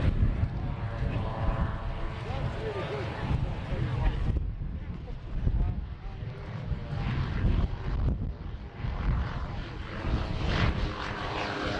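A small engine buzzes continuously as a model aeroplane flies overhead at an air show, its pitch shifting as it passes, while someone talks over it.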